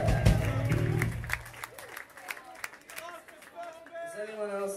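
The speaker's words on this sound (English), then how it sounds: "Let's give it a round of applause for you guys." Crowd at a live punk show at The Fest applauding and cheering for about a second and a half, loud and close, then fading into scattered claps and murmuring chatter.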